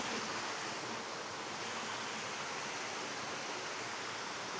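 A waterfall at Balung Santo Ilog in Bailen, Cavite gives off a steady, dense rush of falling water, continuous and even with no breaks.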